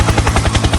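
A helicopter thunders close and loud, its rotor beating in fast, regular thumps.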